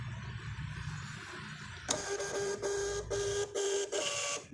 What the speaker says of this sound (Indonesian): Nah, sudah connect, langsung kita print.